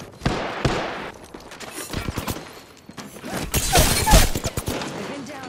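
Gunfire from a military shooter video game, several sharp reports in irregular bursts, some close and loud and others more distant, with brief quieter gaps between volleys.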